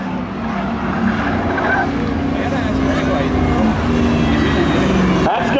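Race car crossing the finish line during spectator drags at Seekonk Speedway, a loud sustained engine roar with an announcer talking over it, ending in an abrupt cut.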